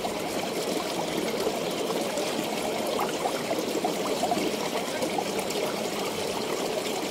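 Cold water flows and trickles steadily through a cave, a continuous close stream-like rush with no voices over it.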